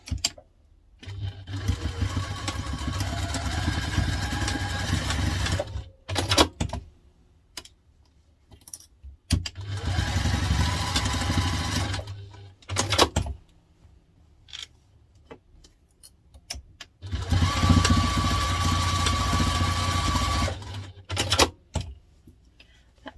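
A sewing machine runs three long stretches of rapid, even stitching while basting fabric pieces for an onigiri bag, with short pauses and small clicks between the close, steady bursts.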